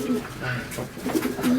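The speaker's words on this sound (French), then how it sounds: "Un élevage alors de pigeons." Pigeons cooing at a pigeon breeding farm, several soft rolling coos repeating close by, with a voice speaking over them.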